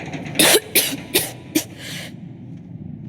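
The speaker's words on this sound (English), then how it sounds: "As you can probably tell, I've got this bad cough." A character in the Starfield video game coughs four times in a close, rasping, evenly spaced series, followed by a short breathy tail and then quiet.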